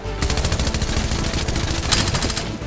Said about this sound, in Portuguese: Porque a gente tem 105 balas que são simplesmente cuspidas da arma